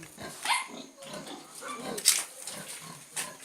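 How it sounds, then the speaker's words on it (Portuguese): A giant pig grunts and snorts in short bursts, close and fairly loud, with some rustling between the sounds. "Olha o porco."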